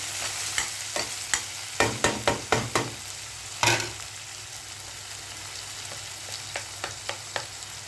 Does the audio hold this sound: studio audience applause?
no